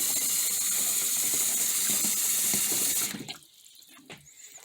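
Water runs from a tap into a pot for refried beans, a loud steady rush that stops abruptly near the end, leaving faint clinks.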